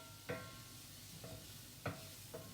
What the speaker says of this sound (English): I'm going to brown these maybe a little bit more than translucent.